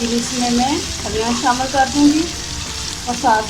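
Green beans and potatoes frying in a pan with garlic-ginger paste, a steady sizzle running throughout with a voice humming or speaking in melodic bursts over it.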